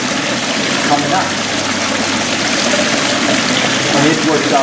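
An aquarium bubbler pushes water through 1/2-inch PVC, giving a steady, close gurgling wash of bubbling water that runs without pause the whole time.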